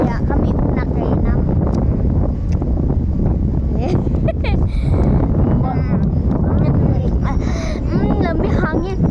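Strong wind buffeting the microphone outdoors, a loud rough rumble throughout, with people talking over it.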